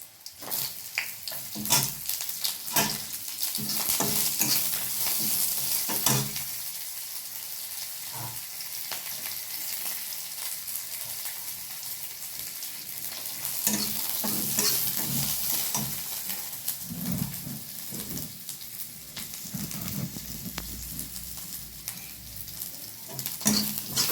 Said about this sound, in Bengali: পেঁয়াজ যখন লাল লাল ভাজা ভাজা হয়ে যাচ্ছে